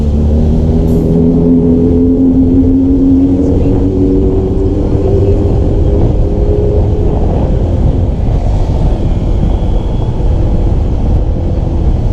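A steady motorcycle engine drone rumbles throughout, running close by with slight shifts in pitch, loud and continuous with no talking.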